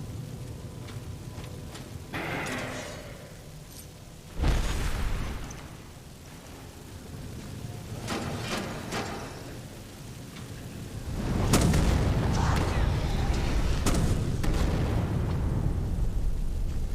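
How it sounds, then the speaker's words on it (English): A fire wizard's flame cloak spell in the video game Skyrim, heard as repeated whooshing bursts and fiery roars over a rumbling background, with a loud surge near the middle and a sustained roar toward the end. "The spell, it was some sort of flame shield or flame cloak thing."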